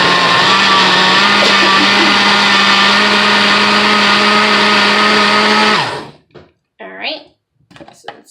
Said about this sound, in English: let's go ahead and blend this up